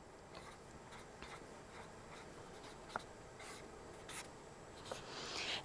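A marker or pen draws electron diagrams on a classroom board in a chemistry lesson, making faint, quiet scratching and rubbing strokes with short bursts of squeaks, and no one speaks.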